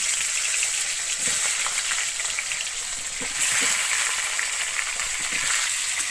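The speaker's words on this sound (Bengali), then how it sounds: "আমি তেলের উপর এবারে আলুগুলোকে ভেজে নেব" Peeled boiled potatoes frying in hot white oil in a wok give a steady, dense sizzle throughout, with faint stirring clinks and no voices.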